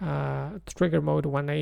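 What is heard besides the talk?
No everyday noises stand out.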